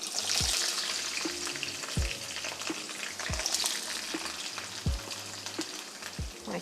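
Chilies, tomatoes and shallots sizzle steadily in hot oil in a pan, a dense crackling fry with repeated low knocks of a utensil stirring and tapping against the pan.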